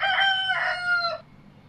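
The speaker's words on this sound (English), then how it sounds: "Chickens live on the farm." A farm rooster crows once, a clear, close, ringing call lasting a little over a second before fading into quiet.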